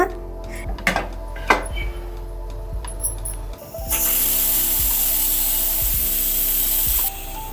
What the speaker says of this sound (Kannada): ಇವಾಗ ಇದನ್ನು ಒಂದು ಕೂಗಿಸ್ಕೊಳ್ಳೋಣ.